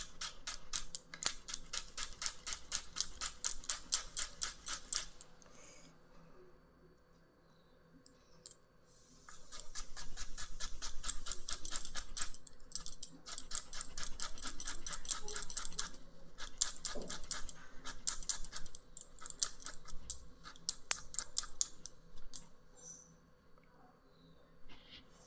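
Knife finely chopping ash gourd on a board for moong dal ghonto, rapid steady clicking strokes in several long runs separated by short pauses, close and moderately loud.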